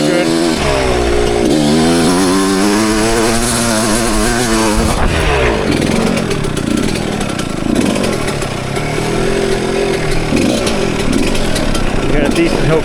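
A 1996 Suzuki RM125 two-stroke motocross bike rides woods trails, its engine revving hard with rising and falling raspy pitch as the clutch is worked, loud and close, with constant trail noise.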